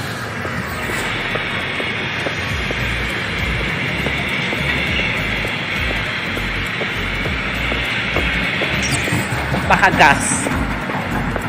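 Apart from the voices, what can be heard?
freight train passing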